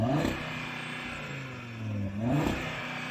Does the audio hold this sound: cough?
no